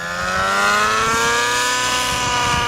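An OS 105HZ-R model helicopter engine runs steadily at high throttle in idle up, a loud continuous buzzing whine with a slowly rising pitch, close and alone.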